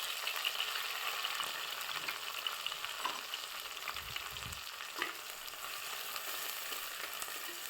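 Cumin, onions and curry leaves frying in oil for a village-style prawn curry, a dense steady hiss of sizzling with a few soft stirring knocks, no voices.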